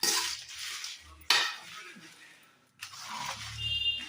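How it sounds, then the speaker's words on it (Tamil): Chillies being roasted and stirred in a pan over low heat, with spoon scrapes and clatters in short bursts separated by brief quiet gaps, near and fairly soft. "மிளகா வறுக்கையில் நல்லா கிளறி விடணும்."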